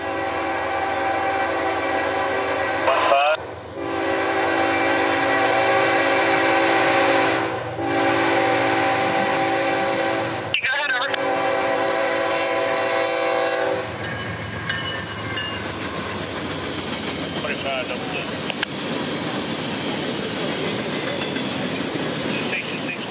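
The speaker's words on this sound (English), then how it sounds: "Yet NS would show up first with train 61C, an as-needed empty gondola train from Calvert," An empty Norfolk Southern gondola freight train rolls past close by, its horn blaring in several long blasts before giving way to rattling, clanking wagons and wheel clatter.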